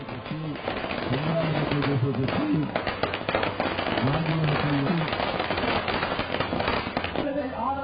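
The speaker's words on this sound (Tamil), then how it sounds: "தொண்டர்கள் பட்டாசு வெடித்தும் வரவேற்றார்கள்" Firecrackers burst in rapid, uneven crackling volleys as party workers welcome a campaigning politician in a village. The bangs are loud and continuous, with voices speaking underneath.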